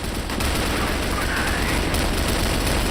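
Sustained gunfire in the video game Crossfire during a tournament quarterfinal, dense and continuous shots filling a loud, steady wash of game sound.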